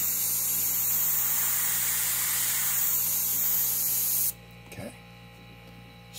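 An airbrush sprays paint over a painting of ocean waves, giving a steady, close hiss for about four seconds that then cuts off, leaving near silence with a faint scrape.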